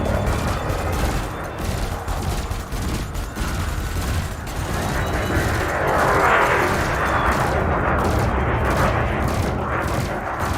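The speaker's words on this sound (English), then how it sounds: "Your ship's gimbaled weapons offer a degree of aiming assistance." Gimbaled spaceship weapons firing in the space combat game Elite Dangerous: dense, continuous rapid bursts of laser-like gunfire with booming impacts, loud and sustained throughout.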